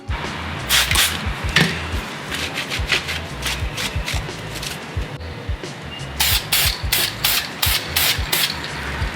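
Rusted brake parts from an R32 GTR being spray painted, with repeated short hissing bursts of an aerosol can, close and fairly loud, separated by brief pauses and faint handling noises.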